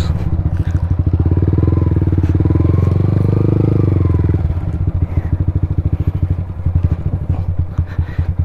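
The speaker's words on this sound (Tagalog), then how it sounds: "Ang galing niya magmotor, no? May angkas pa yon." A motorcycle carrying a rider and a passenger roars past close by, its loud engine swelling and then fading into a rattly idle-like putter, with faint voices in the background.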